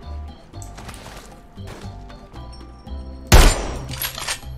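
Gunfire in the shooter game Apex Legends: a string of short, clipped shots builds to one loud, heavy burst near the end, with quieter game noise underneath.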